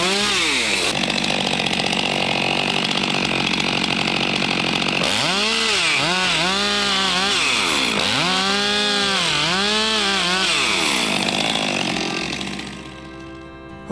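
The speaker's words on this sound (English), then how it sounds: "so that's my first freehand chainsaw milling experience." A chainsaw with a 32-inch bar and skip-tooth chain roars steadily while freehand milling a log in British Columbia, the engine loud and close, surging and bogging repeatedly as it cuts, then easing off at the end.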